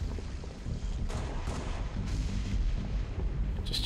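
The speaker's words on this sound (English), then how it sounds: "Just shooting the corpse." Gunfire in Halo: Reach rumbles as a run of deep, booming shots in quick succession, with heavy low-end thuds over a continuous battle din and no talk.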